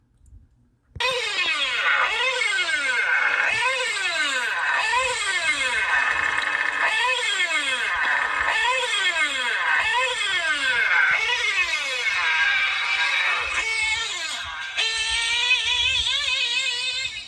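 A modified-engine vehicle pulls wheelies on grass, its engine revving in repeated rising and falling bursts, loud and close, ending in a sustained higher drone.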